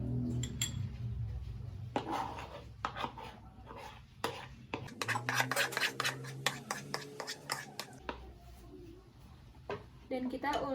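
Dough being kneaded and mixed by hand in a bowl for shrimp-mayo cakwe, with soft squelching, slapping and rubbing, now and then sharp knocks against the bowl, close up and fairly busy throughout.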